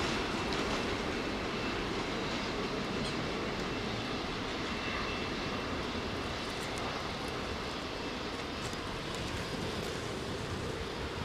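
Large airliners roar past close to runway 09R at Heathrow, a loud, continuous broadband jet rumble and whine that fills the whole stretch without letting up.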